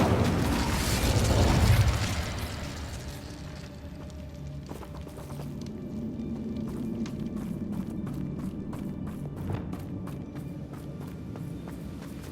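Hogwarts Legacy on PS4: the Incendio fire spell bursts with a loud whooshing blast at the start, then fades into quieter clattering footsteps and scattered mechanical clicks.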